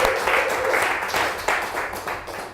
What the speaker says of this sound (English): Can we give a round of applause for Phil, please?